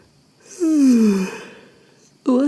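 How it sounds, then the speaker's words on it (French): A person yawns during a summer meditation session, a drawn-out breathy yawn with falling pitch, followed by the start of a second one, close and clear against a quiet room. "ça me fait bailler d'observer comme ça"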